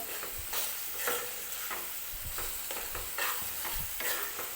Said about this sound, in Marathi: आलं लसणाची पेस्ट वगैरे टाकल्यानंतर कांदा वगैरे छान असा परतून घ्यायचा आहे तेलामध्ये 2-3 मिनिटासाठी